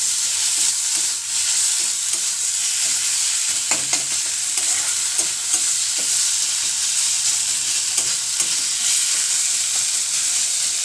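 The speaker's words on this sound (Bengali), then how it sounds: "মাংসটা দিয়ে নেব। দিয়ে এটাকে ভালোভাবে কষিয়ে নেব।" Chicken pieces sauté in a hot pan for a mildly spiced chicken curry, a continuous loud sizzle with repeated spatula scrapes and clacks from stirring, close up and without speech.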